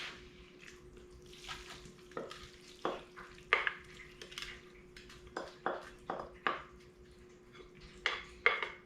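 A squash and bacon frittata mixture with a little flour binds as it fries in a pan, with repeated scraping and stirring clatters and a faint sizzle under them, fairly close and irregular.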